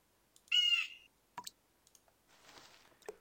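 A short, bright bird call rings out once in the Windosill video game, followed by a few soft clicks and a faint rustling burst, all quiet and sparse.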